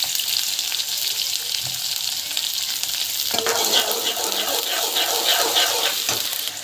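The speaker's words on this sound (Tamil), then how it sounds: "வெங்காயம் ட்ரை கருவேப்பிலை வந்து போட்டுக்கலாம்." Onion and curry leaves fry in oil with mustard seeds and cumin, a steady sizzle that swells louder and more crackly midway as fresh ingredients hit the pan, with stirring underneath.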